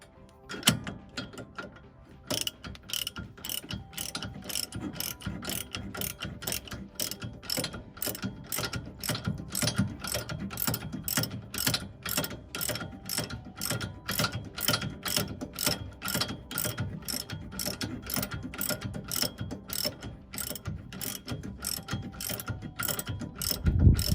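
A ratchet wrench clicks in a long, steady rapid run as two bolts are loosened on a vehicle getting new parts. The clicking is close and continuous, follows a short pause near the start, and nobody talks over it.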